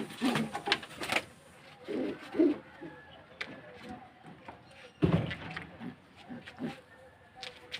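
Homing pigeons back from a race during a geomagnetic storm coo in soft, low, throaty bursts that rise and fall close by, with rustling and faint background noise between the calls.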